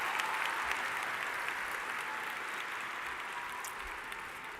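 Audience applause at a spring commencement ceremony, a broad, sustained wash of clapping from a large crowd that holds steady and fades slightly toward the end.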